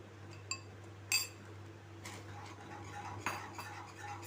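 Spoon mixing a bread caramel pudding mixture in a pan on the stove, a few faint, sparse metallic clinks and scrapes against the pan over a low steady hum.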